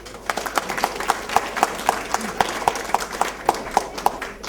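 An audience at a Paris gathering of the Bansoa association, held for a visiting king, claps in a sparse, fairly regular rhythm, distinct hand claps over a soft crowd murmur.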